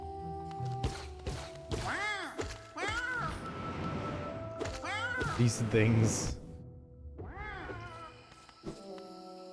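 Cat-like creatures in the video game Hollow Knight let out repeated rising and falling yowling cries, several in a row at moderate volume, with a person speaking briefly over the game sounds.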